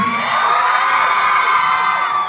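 A crowd of fans cheers, whoops and shouts together in a loud, sustained burst at a live fan event, the high-pitched yells overlapping without a break.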